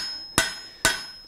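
A blacksmith's hammer strikes hot metal on an anvil while forging a tool rack, three sharp ringing blows spaced about half a second apart, close and loud with a bright metallic ring.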